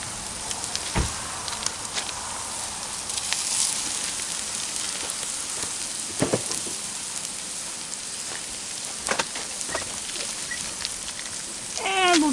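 Hamburger browns in a cast iron Dutch oven with translucent onions over a fire, giving a steady soft sizzle with a few louder pops and crackles.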